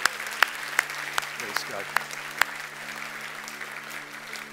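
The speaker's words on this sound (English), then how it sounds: "Can we give these people a round of applause?" A church congregation claps lightly, a few sharp distinct claps ringing out over a low background hum, while a voice speaks briefly.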